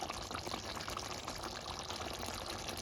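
Dissolved meat mixture is poured into a Jaffna-style mutton curry, giving a steady, close liquid splashing and trickling that runs unbroken for a few seconds.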